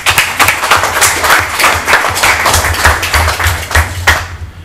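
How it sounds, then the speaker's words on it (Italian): A room of people claps in tribute at a press conference presenting Aleandro Rosi, loud, close and somewhat uneven, with distinct individual claps before the applause cuts off abruptly near the end. "volevo fargli un applauso"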